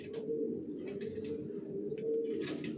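Young racer pigeons coo steadily in a low, continuous murmur from several birds close by, with faint chirps above and no speech.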